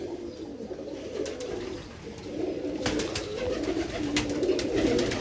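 Pigeons coo softly in repeated low, throaty calls, with some wing flutters and light rustling nearby; no talking over the birds.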